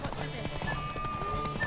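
Roach, a fully kitted-out horse in The Witcher 3, gallops in steady clip-clop hoofbeats close by, with a brief whinny and game music and ambience layered underneath.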